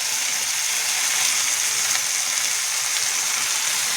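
Peanuts, cumin and fenugreek frying in a pan for tomato chutney, giving a steady, bright, continuous sizzle that stays even and close throughout with no voices.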